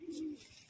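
A single short, faint coo from a young show-quality pigeon, a brief low hum that quickly fades into quiet.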